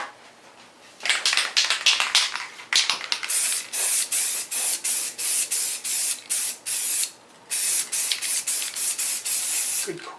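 Crystal clear coat is sprayed onto a matrix mold in a rapid series of short, loud aerosol hisses, close and steady, with brief pauses between bursts and one longer gap.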